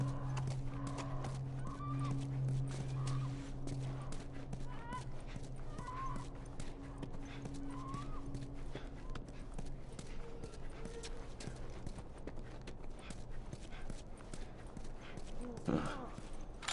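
A horse in The Last of Us video game clip-clops with steady, soft hoofbeats throughout, fairly quiet under a low ambient hum, with characters talking over it.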